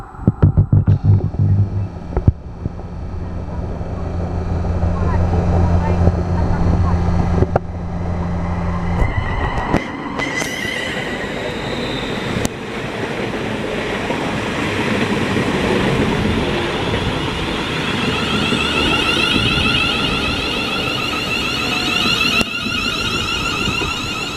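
A Heathrow Express class 360 electric train draws into West Ealing station, a loud rolling rumble and wheel noise building to a sustained roar as it approaches, with a steady low throb in the first seconds.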